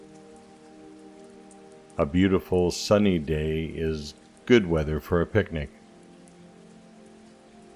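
Soft rain falls as a faint, steady patter beneath a calm narrating voice, which speaks in two short phrases while the gentle rainfall continues quietly behind and after it.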